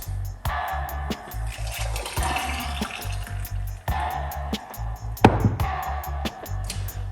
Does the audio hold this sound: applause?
no